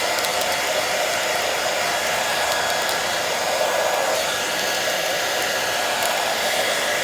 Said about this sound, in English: Probably not the best hairdryer in the world, but will do the job.